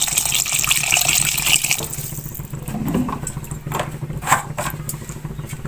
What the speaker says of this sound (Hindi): अब इसमें मैं 1 गिलास पानी का शामिल कर लूंगी।